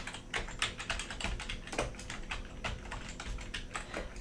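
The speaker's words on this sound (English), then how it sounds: "So I'm going to type out stroke volume." Rapid, steady typing on a computer keyboard, close and clear, with dense irregular key clicks running throughout and no voices.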